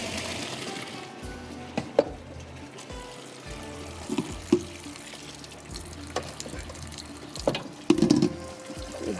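Water from boiled macaroni drained into a kitchen sink, a continuous splashing pour with a few sharper clanks and plops of pot or pasta, no talk over it.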